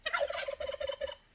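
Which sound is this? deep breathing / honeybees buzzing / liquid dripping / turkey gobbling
turkey gobbling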